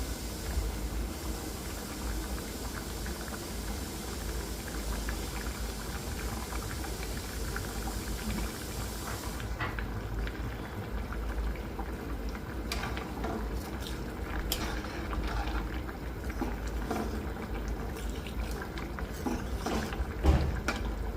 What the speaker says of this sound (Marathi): आता छान उकळी आलेली आहे, बटाटा पण आपला शिजलेला आहे।